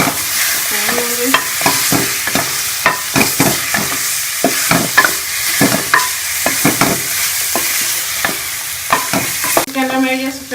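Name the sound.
beef frying and being stirred in a pan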